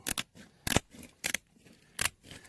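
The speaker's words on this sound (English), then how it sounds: "You got a good pair of shears, it'll cut pretty quick." Shears cut along the back of a gar fish in a run of crisp, close snips that come in quick pairs and single bites, with short pauses between them and no speech.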